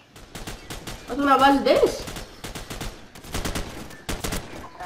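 Gunfire in the Call of Duty MW mod comes as rapid bursts of shots. It plays under a voice in the first half, then returns as several clusters of sharp repeated shots.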